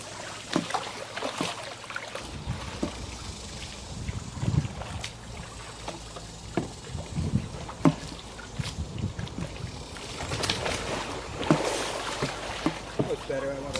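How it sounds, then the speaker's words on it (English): A kayak rolling over and righting in river water with a paddle, giving irregular splashes and sloshing bursts close by, with a person speaking intermittently between the water sounds. "You roll back up with your paddle."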